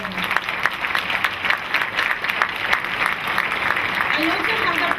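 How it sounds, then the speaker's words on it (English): A crowd applauds parents at a school district staff and student awards ceremony, a steady, dense wash of clapping that fills the room and carries on evenly throughout. "a big applause to all the parents"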